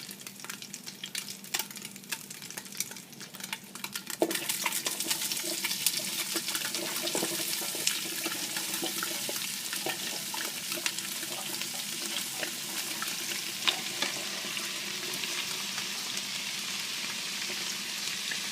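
Roughly chopped, bean-sized onions drop into a pan on medium-high heat for a tofu chili, bursting into a loud, continuous sizzle that holds steady while being stirred, with no one talking.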